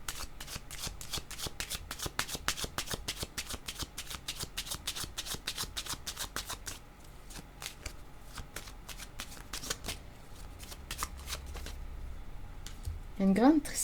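Tarot cards are shuffled steadily for about seven seconds in a rapid train of crisp riffling flicks, then more sparsely, close and moderately loud, ending with a brief voiced sound.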